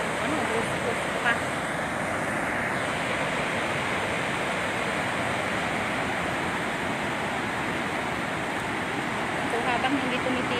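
A broad, unbroken roar of rushing water pours from the overflowing Angat Dam during rain, loud and constant with no breaks.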